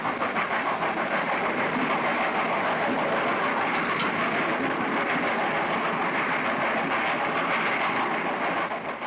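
An old steam train on the Mogiana railway rolls along the rails, giving a dense, steady rumbling roar with a faint rhythmic clatter throughout, loud and constant with no talk.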